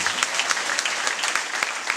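A church congregation claps in a brisk, even rhythm, the hand claps close and lively across the short stretch, with faint voices mixed underneath.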